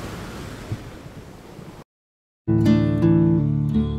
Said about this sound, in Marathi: आता जो तुम्ही समोर निळाशार समुद्र पाहत आहात